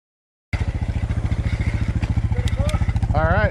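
A motorcycle or dirt bike engine chugs loudly nearby on a forest trail in Sam Houston National Forest, with a rapid, steady putter that builds slightly toward the end.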